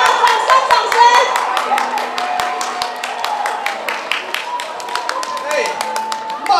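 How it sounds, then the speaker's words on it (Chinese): An audience at an illusionist's cups-and-balls magic show during a 50th anniversary celebration claps in scattered, uneven bursts of sharp hand claps, with a performer talking over the applause. "好啊，掌声。"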